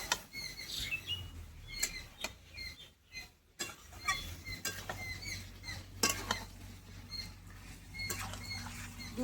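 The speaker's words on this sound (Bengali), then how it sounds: "দিয়ে ভেজে রাখা পটল আলু মশলার সঙ্গে 2 মিনিট মতো একটু কষিয়ে নেব।" Pointed gourd and fried potato pieces stirred with spices in a pan: irregular scraping, clinking and clattering of a spatula against the pan, close and busy, with brief pauses and no talking.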